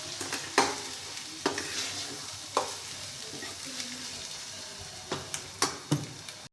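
Chili powder and paste frying in hot oil in a pan, a steady soft sizzle broken by scraping, knocking stirs of a spoon at irregular intervals, close and fairly quiet.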